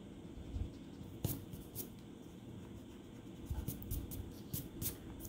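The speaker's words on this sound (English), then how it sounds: "a cleaner drawing when you erase your pencil out first" A pencil eraser rubs across paper while cleaning up pencil lines on an inked drawing, soft close scratchy strokes in irregular short bursts with a few sharper scrapes.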